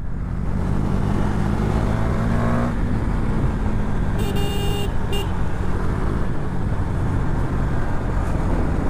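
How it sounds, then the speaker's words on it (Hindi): A KTM Duke 390 BS4 motorcycle on its stock exhaust rides loud and close while downshifting, the engine drone rising and falling, with a brief horn toot partway through and no talking. "इसमें ना एक स्टॉक एग्जॉस्ट है तो उसमें वो भरभर भरभर वाला आवाज भी आ रहा है।"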